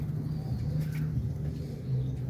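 Pigeons coo softly on a rooftop loft, a low repeated throaty murmur running steadily through the short stretch under faint background noise.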